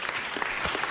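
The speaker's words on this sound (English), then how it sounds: "Give Brandimir a round of applause" A short burst of applause for a council member rises from the audience at a city council meeting, a brief wash of clapping hands.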